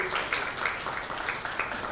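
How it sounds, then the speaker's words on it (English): Audience at the Infocom Dhaka 2024 technology conference gives a steady round of applause after a panelist is introduced, a dense wash of many hands clapping at moderate level throughout. "A huge round of applause, everybody"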